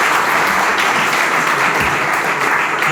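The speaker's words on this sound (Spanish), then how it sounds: "por favor, pido un aplauso para ellos" An audience at a round-table panel on technological sovereignty in Asturias gives a sustained round of applause, loud and even throughout with no talking over it.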